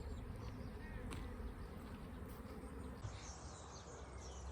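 Honeybees buzz steadily in a dense, continuous drone, close by, with faint bird chirps in the background.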